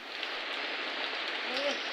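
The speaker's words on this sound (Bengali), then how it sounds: "প্রচুর পরিমাণে বৃষ্টি হচ্ছে, আপনারা তো দেখতেই পাচ্ছেন" Heavy rain falls steadily over a village in Naogaon as a dense, continuous hiss without a break, with a faint tonal sound rising briefly near the end.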